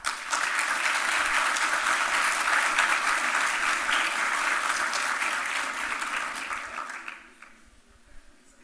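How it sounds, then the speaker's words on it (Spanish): Sustained applause from an audience at a Chilean business climate-action event, welcoming the president of the Cámara Chilena de la Construcción. A dense, even wash of clapping lasts about seven seconds, then fades to near silence. "Un aplauso."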